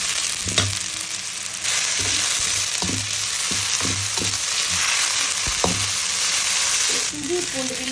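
Ginger garlic paste sizzling steadily in hot oil for a chicken black pepper fry, with several sharp scrapes and clinks of a stirring spoon against the pan, close and continuous throughout.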